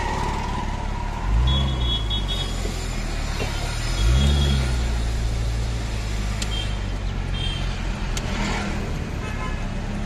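A Nissan R34 Skyline engine revs twice in deep rising roars, then settles into a steady rumble as the car pulls away amid road noise.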